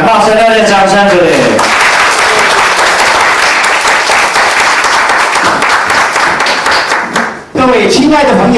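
Warm audience applause welcoming the next speaker at a speaker training class, sustained loud clapping for about six seconds between stretches of someone speaking, briefly dipping before he resumes.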